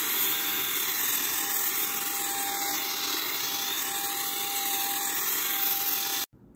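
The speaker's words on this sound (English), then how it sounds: "All we need to do is hold down power. It is on, turn to the highest mode." A ZARIMI electric compressed air duster on its highest setting gives a steady, loud, close rushing whoosh of air for about six seconds, then cuts off abruptly.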